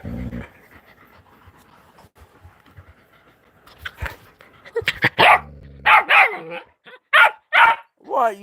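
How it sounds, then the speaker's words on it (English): A dog panting and giving short barks and yips at home, with a person talking nearby; bursts of barking come closer together toward the end. "What, you barking?"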